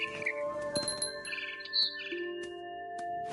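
Bird chirps and tweets in the video game What Remains of Edith Finch, a few short calls over a soft ambient bed with light tinkling tones, moderately loud and without talk.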